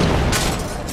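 Explosions rumble in the Risen 3 video game, a dense, loud burst of booms and crackling blasts filling a single second, with a voice faintly mixed underneath.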